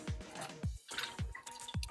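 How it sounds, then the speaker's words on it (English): Someone sips water in several wet, gulping swallows close to the microphone, each with a soft low thump, in a quiet room. "taking a sip of water"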